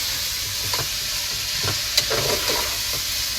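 Vegetables and lentils for a vegetable biryani are stirred and sautéed in a hot pan, a continuous sizzle broken by several scraping spoon strokes.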